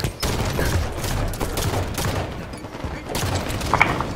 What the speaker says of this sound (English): My SMG must have fucking like rocket rounds.